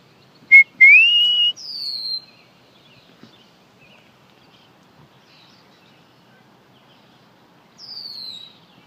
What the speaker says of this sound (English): My blackbird's back there somewhere,